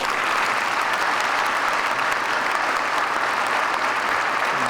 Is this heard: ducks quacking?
no